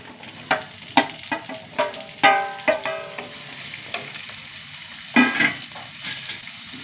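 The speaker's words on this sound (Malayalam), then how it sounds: "കുറച്ച് വെളിച്ചെണ്ണ ഒഴിച്ച് കൊടുക്കുക. നന്നായി ചൂടാവട്ടെ എണ്ണ. ഇതിലേക്ക് 1 കപ്പ് ചെറിയ ഉള്ളി കേട്ടോ." Small shallots dropped into hot coconut oil crackle and sizzle sharply in a pan, a burst of loud spitting pops that settles into a softer steady fry, with a few stirring scrapes and no voices.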